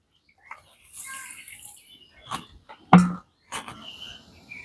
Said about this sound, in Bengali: দিয়ে দিচ্ছি এক বাটি জল যতটা চিনি ঠিক ততটাই জল দিতে হবে